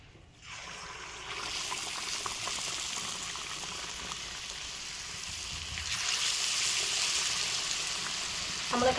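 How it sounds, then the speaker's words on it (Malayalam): Egg bajji, batter-coated eggs, frying in boiling oil for a hotel-style snack, a steady loud sizzle that swells louder midway as more pieces drop in, with no talking. "ഇനി നമ്മൾ ഓരോന്നായിട്ട് തിളച്ച എണ്ണയിലോട്ടോട്ട് ഇട്ട് കൊടുക്കണം"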